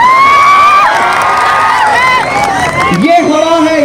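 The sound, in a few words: large crowd cheering at political election rally in Nanded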